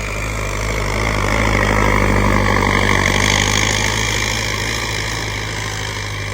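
A 655 CRDI tractor engine converted to an inline pump runs loud and close, a steady heavy diesel drone that swells slightly in the middle before easing back.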